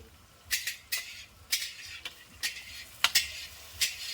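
Food frying in a pan while being stirred: a handful of crisp, spaced scraping strokes and light clicks over a quiet, faint sizzle, heard up close with no voices.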